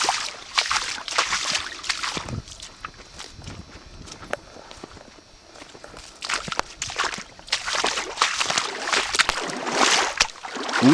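Boots splashing and sloshing step by step through deep standing water on soggy, spring-fed ground, steady wet footfalls close by with brief quieter stretches.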